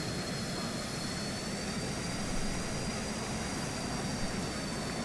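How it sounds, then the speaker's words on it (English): Griffin G39 aircraft in Microsoft Flight Simulator roaring through an extreme takeoff, a steady loud jet-engine drone with high whine tones held throughout, no voices. "I'm going to go and do some extreme takeoff."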